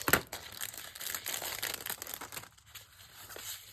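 Scissors cut through foam tape on a hot cocoa craft swap package, making close crinkling and snipping sounds in irregular bursts, with a sharp crack at the start before the noise eases off.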